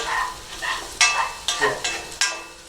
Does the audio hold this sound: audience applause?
no